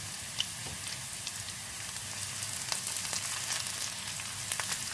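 Cumin seeds sautéing with softened translucent onions in hot oil, a loud dense crackling sizzle with scattered pops throughout, no voices.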